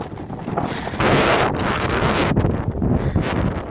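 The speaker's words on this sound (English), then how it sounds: "It's very windy up here." Strong wind gusts at the top of Pinchot Pass roar and buffet against the microphone in loud, shifting surges, with no voices.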